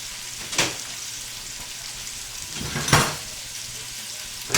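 Braised pork stuffed peppers browning in a pan, a steady close sizzle of frying with two sharp bursts of spattering and clatter as they are turned over, no voices.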